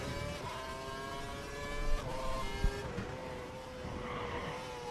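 Formula 1 car engine in F1 2012 at the Singapore circuit, a loud, high-pitched whine shifting pitch through gear changes and corners, with brief thumps and a bit of tire noise, no talk.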